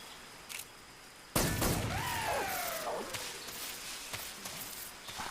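In Metal Gear Solid 3, a sudden loud blast hits after a quiet start, then rumbling debris and falling whooshing tones trail off over several seconds.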